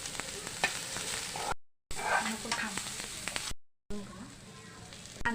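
Onions frying golden brown in a pan, steady sizzling with sharp scraping stir strokes, broken by two brief silent gaps, and a faint voice speaking over it.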